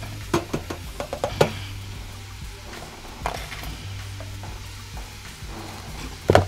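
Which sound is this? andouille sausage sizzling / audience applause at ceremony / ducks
andouille sausage sizzling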